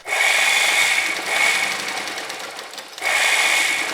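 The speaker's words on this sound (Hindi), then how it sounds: "यहाँ पर किनारे सिलाई लगाएंगे।" A sewing machine stitches along the edge of salwar fabric, running in a loud steady whir that briefly slows and eases off before surging back to full speed, with no talking.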